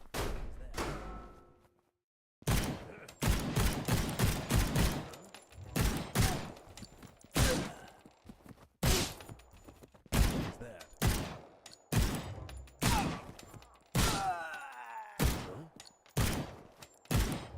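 Repeated gunshots and rapid bursts of fire from a video game under development ring out loud and close, with short gaps between volleys.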